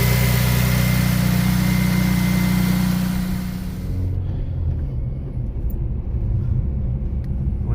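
Honda FN2 engine fitted with a Tegiwa 3-inch induction kit idles with a deep, steady rumble, loud and close, then drops to a lower, rougher idle after a few seconds.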